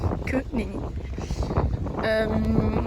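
Strong wind buffets an outdoor microphone on a cold day in Scotland, a steady roaring rumble, while a person speaks over it.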